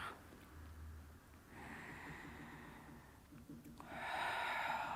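A slow, breathy exhale during a pilates circle exercise in a class, heard as soft broadband rushes of air that recur and grow fuller toward the end, with no talking.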